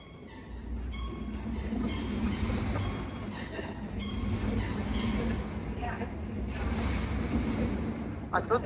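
A metro train rumbles past overhead nearby with a steady low roar and faint wheel clatter, while voices talk in the background throughout, along Regent's Canal in London.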